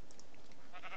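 A sheep bleats in the Minecraft video game, a brief, fairly faint wavering call near the end over a constant background of game ambience.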